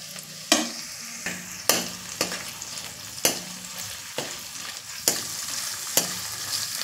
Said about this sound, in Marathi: मस्त तेलावर फ्राय करतोय।